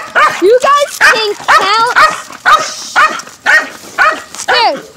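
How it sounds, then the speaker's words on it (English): Dog barking repeatedly up close, about ten loud, sharp barks in a quick, fairly even rhythm, some rising into yelping tones. "comment how many barks did Bella do?"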